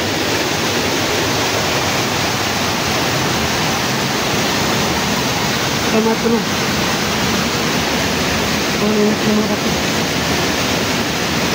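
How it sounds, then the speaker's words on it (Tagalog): Loud, steady rushing water roars close by without a break, and a voice speaks briefly beneath the noise. "Malakas talaga ng tubig."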